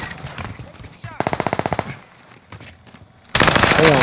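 Gunfire in the shooter video game Call of Duty: Modern Warfare, with a rapid burst of automatic shots followed by a louder, dense blast of fire near the end, loud and close.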